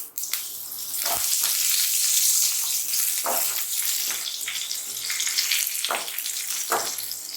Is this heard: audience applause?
no